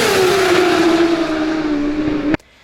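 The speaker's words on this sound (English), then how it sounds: "The incredible drifting of the BMW started to show up, even with the rear wheels lifting at 300 km per hour under braking" A BMW race car at the Alpe Adria round at Rijeka brakes hard from about 300 km/h and drifts. Its loud engine note slides steadily downward, then cuts off abruptly near the end.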